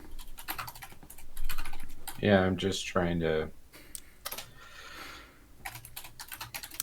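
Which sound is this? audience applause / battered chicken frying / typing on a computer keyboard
typing on a computer keyboard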